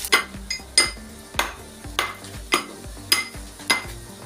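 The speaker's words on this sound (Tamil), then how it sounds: "ஆயிலே லைட்டாக வதக்கிடலாம்" Green chilies sauté in oil as a utensil stirs the pan, steady scraping strokes and clinks roughly every half second over a faint sizzle.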